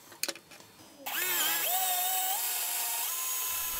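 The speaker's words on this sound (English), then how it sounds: "I used a 10mm drill bit to drill through it." A drill press spins up to bore a 10mm bit through a glued wooden block: a few handling knocks, then a sudden loud whine that settles into a steady high-pitched drone, shifting in pitch as the bit cuts.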